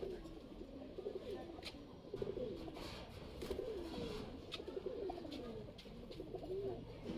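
A pair of Kaldom pigeons coo softly and repeatedly nearby, rolling calls rising and falling over quiet background with faint clicks.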